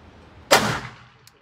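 A single sharp gunshot from a CZ P07 pistol cracks at close range, then decays quickly with a faint metallic tick afterward.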